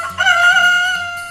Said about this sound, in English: H for hen